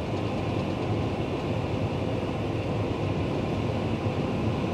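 Steady, loud engine drone from a Fendt tractor driving across a field while an Amazone sprayer spreads liquid fertilizer, a continuous broadband rumble with no pauses and no talking.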